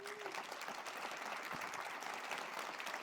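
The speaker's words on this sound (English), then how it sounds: "Why don't you stand up and receive a round of applause?" Audience at a university state-of-the-address event clapping steadily for an honoree, a sustained wash of applause from a crowd at moderate distance, fairly soft and without talk.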